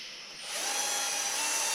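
A small screwdriver-type drill whirs up to speed after a brief pause, then runs steadily with a high, even mechanical whine.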